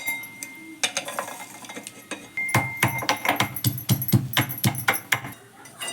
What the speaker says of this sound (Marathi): हे आपण सगळं खलबात्यामध्ये आता कुटून घेणार आहे